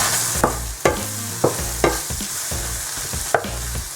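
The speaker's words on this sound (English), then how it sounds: "The garlic mushrooms are frying nicely." Garlic mushrooms sizzle steadily in a hot pan while a utensil scrapes and stirs at irregular intervals.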